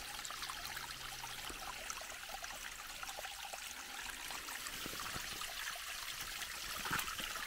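Shallow flowing water trickles steadily over sand and stones in a small hand-dug channel, a soft continuous burbling heard close up with no voices.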